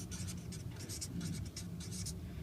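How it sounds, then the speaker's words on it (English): Pen or pencil writing the word standard on paper, a close series of short scratchy strokes in quick bursts, quiet and alone. "I'll just write standard."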